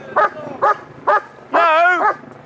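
A dog gives three short, sharp barks in quick succession, then a longer drawn-out howling bark, loud and close with quiet between the calls.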